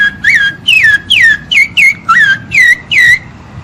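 A person whistles an imitation of a rufous-bellied thrush's song: about eight clear, loud, gliding phrases in a steady rhythm, each sliding down in pitch, with no talking.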